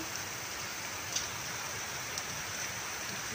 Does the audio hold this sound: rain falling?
yes